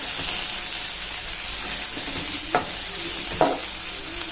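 Tomato and onion fry in oil in a close pan, making a dense, steady hiss. Two brief scraping stirs cut through the sizzle near the end, and nobody speaks.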